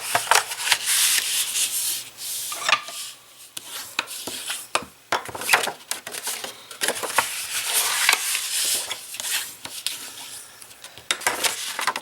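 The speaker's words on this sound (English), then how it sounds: "I'm going to go ahead and fold and burnish." Scored paper for an origami bow is folded and pressed flat with a burnishing tool, giving close, dry scraping and rubbing strokes with small taps in an irregular rhythm, no voices.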